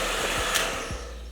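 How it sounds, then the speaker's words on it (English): A hair dryer blows a steady, even stream of air onto a field hockey stick to warm it, a continuous whooshing hum held at one level throughout the short stretch, with no voices. "give it a little bit of a blast from a hairdryer"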